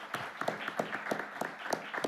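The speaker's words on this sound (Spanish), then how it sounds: "para el cual pido un fuerte aplauso" An audience at an international arbitration panel in Ibero-America applauds, a modest, fairly faint patter of clapping hands with a steady rhythm for a couple of seconds, no voices over it.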